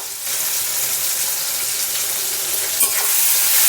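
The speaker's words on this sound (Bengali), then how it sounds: "একবারে একটু অল্প পরিমাণ তেলে ভেজে নেব আদাটা" Ginger and green chili hit a small amount of hot oil in a pan for a vegetarian Kashmiri aloo dum. A steady, dense sizzle runs throughout, with a brief stirring scrape near the end and no talking.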